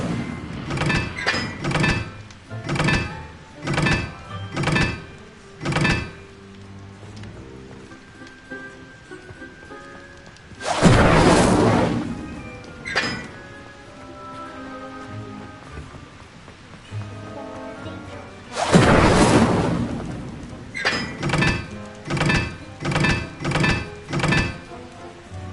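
Incendio fire spell cast repeatedly in Hogwarts Legacy, a run of sharp magical bursts each landing with a thunking impact, broken by two long roaring whooshes of flame, then another quick volley of hits.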